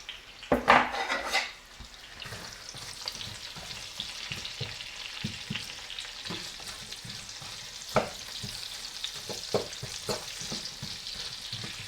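Onions go into hot oil with salt, starting with a loud burst of crackling and sizzling, then settling into a steady fry with spoon scrapes and clinks against the pan.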